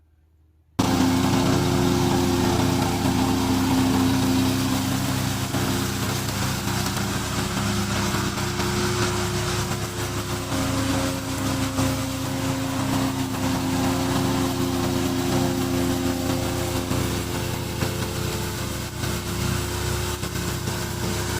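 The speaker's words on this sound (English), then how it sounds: "This is our remote controller mower." A gasoline-powered remote-controlled lawn mower engine starts up after a brief silence and runs steadily, a continuous buzzing drone at moderate distance with no voices.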